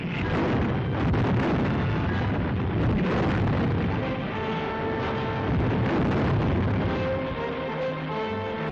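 Artillery fire and explosions roll on without pause in the 1938 Japan-China war as the invaders' guns pound burning Suchow, a dense, rumbling barrage of booms and bursts on an old, muffled recording.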